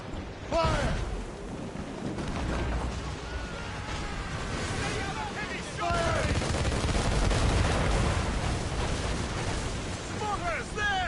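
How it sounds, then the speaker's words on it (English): Ship cannons and mortars fire in repeated loud blasts during an Assassin's Creed Rogue naval battle, booming over a continuous rumble of combat noise while voices shout orders throughout. "Make good use of your own mortars, Shed."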